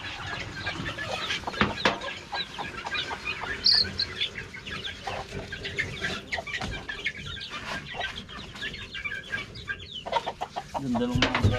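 Chicks cheep and hens cluck on a small farm, with steady close chirping and scattered clucks throughout and faint talk in the background.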